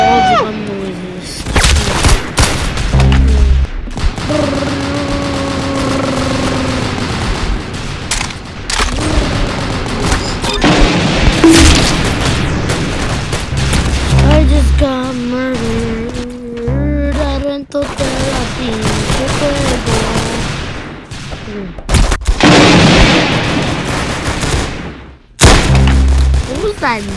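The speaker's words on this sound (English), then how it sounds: "I don't need to recreate all the gun noises." Gunfire in the Roblox game Arsenal, with repeated bursts and booming thuds throughout, up close and loud under steady game music and talk.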